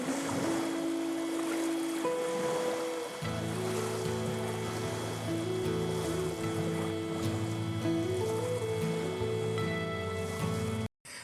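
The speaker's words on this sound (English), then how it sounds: "You've got like the weird intro with like the water sounds and stuff" Watery, surf-like wash opening a song, a steady loud bed of rushing water with sustained tonal layers running through it for about eleven seconds before cutting off.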